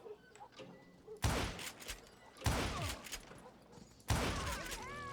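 Three loud, close gunshots from Call of Juarez Gunslinger ring out at spaced intervals, each with a sharp crack and a ringing echo tail, following quieter background sounds.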